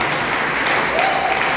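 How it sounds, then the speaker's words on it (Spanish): Brief burst of steady applause from a church congregation during a sermon, dense clapping at even loudness throughout. "¿Cuánto le dan un aplauso a Cristo por eso?"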